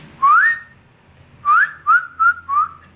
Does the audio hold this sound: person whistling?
yes